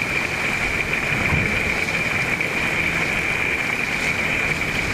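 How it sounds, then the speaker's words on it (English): Heavy tropical storm rain pours steadily with a constant hiss, loud and close throughout, with a low rumble of wind underneath. "it's storming, the rain is bucketing down"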